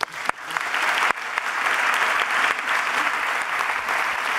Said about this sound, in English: please welcome Kristin Forbes with a warm round of applause